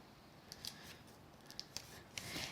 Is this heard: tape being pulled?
yes